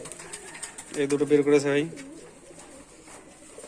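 Pigeons kept by a fancier of high-flying breeds in Rajshahi coo in a short, close, rolling burst, with someone speaking over and around the calls.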